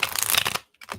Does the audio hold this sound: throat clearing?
no